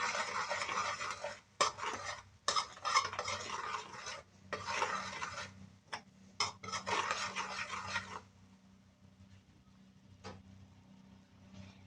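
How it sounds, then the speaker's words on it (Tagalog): Butter garlic mixed seafood with Cajun spices is stirred in a pan in several scraping bursts with brief pauses, close and clear, fading to near silence for the final few seconds, with no talk. "Ayan na po, ilagay na po natin siya. Haluin natin."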